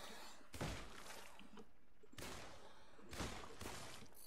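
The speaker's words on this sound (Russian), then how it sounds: "Просто два выстрела." Gunshots in the video game The Cycle, a few sharp, quiet bursts spaced unevenly over a low background hiss.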